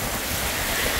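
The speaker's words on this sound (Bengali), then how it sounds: "তার সাথে আবার বাতাস," Strong wind and heavy rain lash a village during a storm, a dense, steady roar of broadband noise with gusty buffeting on the microphone and no voices, holding level throughout.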